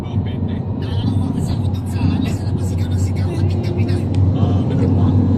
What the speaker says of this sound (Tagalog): Pero sa baba to, grabing traffic to ngayon.